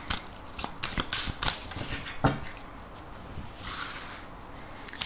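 Tarot cards being shuffled for a reading give a run of quick, close riffling and flicking bursts, busy at first and then easing into softer rustling over about five seconds, with no voices.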